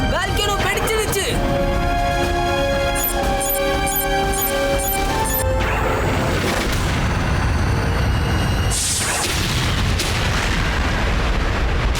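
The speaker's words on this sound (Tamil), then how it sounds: "அங்க பாருங்க, வால்கேனோ வெடிச்சிடுச்சு." A loud cartoon volcano eruption bursts out of a musical score, followed by a long rumbling roar and crashing debris that fills the scene.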